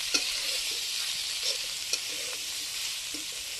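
Vegetables for cauliflower chowmein frying in a pan, a soft continuous sizzle with a few light clicks and scrapes of a stirring utensil, close and fairly quiet.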